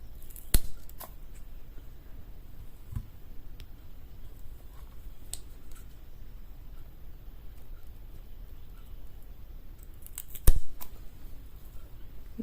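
Scissors snipping Kalanchoe blossfeldiana leaves, a couple of crisp close snips spaced several seconds apart, with faint small clicks and handling noise in between and no talking.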